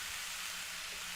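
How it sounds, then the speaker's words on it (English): Ground lamb browns in a pan, giving a steady, faint broadband sizzle with no talking. "and you're going to brown the meat."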